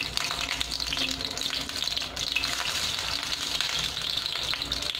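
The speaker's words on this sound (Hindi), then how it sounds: "ये हमारा तेल हो गया है, तब हम इसमें बड़े डाल देते हैं।" Vrat tikki fry in lightly heated oil on a high gas flame, producing a dense, steady crackling sizzle close up, with small bubbling bursts throughout and no talking.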